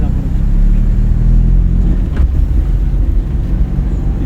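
A driving-school car's engine hums low and steady as the car moves off, with road and wind rumble underneath and an instructor talking over it.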